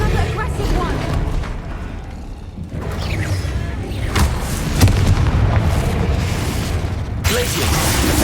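Repeated Confringo blasting-spell explosions in Hogwarts Legacy boom and burst over a rumbling game soundscape, with a sharp crack near the middle, while a voice talks at times.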